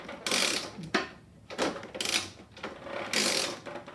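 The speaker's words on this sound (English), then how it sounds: "The gearbox, put in gear, turn it around, another gear." Motorcycle gearbox on a supercharged postie bike, turned by hand through the gears: close mechanical clicks and ratcheting whirs in short bursts separated by brief pauses, with no talk.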